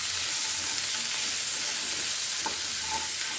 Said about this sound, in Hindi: बस अब हम इसमें अपने प्याज जो हमने कट करके रखे थे लंबे लंबे, उनको ऐड कर देंगे।